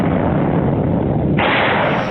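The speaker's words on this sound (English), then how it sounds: "The explosion of a building just last month by the U.S. Department of Energy at the radioactive Santa Susana Field Lab." Explosive demolition of a building by the U.S. Department of Energy at the radioactive Santa Susana Field Lab, a loud continuous rumbling roar that brightens and swells partway through and keeps going without a break.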